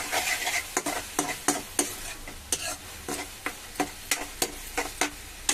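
Curry with turmeric being stirred in a pan, cooking in oil: repeated sharp scrapes and clacks of a spoon against the pan, roughly two per second, over a soft background sizzle, with no talking.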